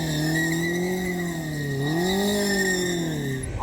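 A motorcycle spins a full donut during a drift, its engine holding a loud, steady droning rev that dips and rises again, with a sustained high squealing tone from the rear tire running over it.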